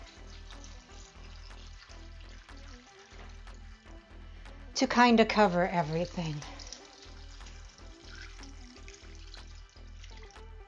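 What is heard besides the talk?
water added into slow cooker for bean soup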